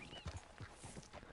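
Horse hooves clip-clop at a walk in Red Dead Redemption 2, soft uneven thuds in a loose rhythm, faint and close.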